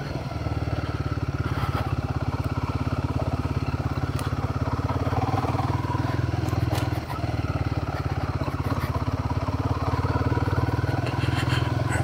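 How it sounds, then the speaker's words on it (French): A Royal Enfield Guerilla 450 motorcycle rides along dirt paths, its engine giving a steady, close, throbbing drone with a continuous pulsing beat, and a few faint clatters of gravel or chassis along the way. "cette moto n'est pas faite spécialement pour ça, mais ça passe sans problème avec un moteur très souple et nerveux en même temps"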